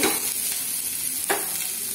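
Cabbage sautéing in a hot pan, a continuous close sizzle with a couple of sharper stirring scrapes, no talking.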